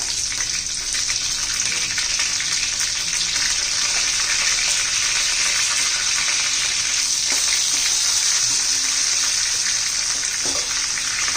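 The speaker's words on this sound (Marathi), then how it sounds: "लसणाचा कच्चेपणा जाईपर्यंत आपण परतून घेऊया" Garlic and green chilies sautéing in a pan, a loud, dense, continuous sizzle that holds steady from start to finish with no talking.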